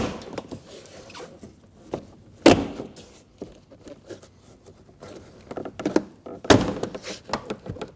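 A Volkswagen Passat door panel is pulled away from the door, its clips releasing with two sharp, loud thunks amid softer scattered taps and rustles, no voices.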